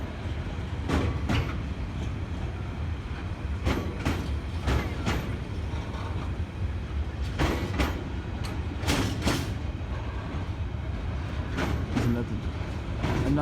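A DLR light-rail train runs past near Stratford in London, a steady rumbling roll lasting throughout with repeated rattling clacks at intervals, fairly close and loud.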